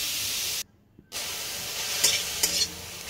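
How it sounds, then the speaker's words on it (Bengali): Carrot frying in ghee with salt, a close steady sizzle with stirring scrapes, briefly cut to silence for half a second before the frying resumes with a few sharper clinks. "খুব সুন্দর করে গাজরটাকে ভেজে নিচ্ছি"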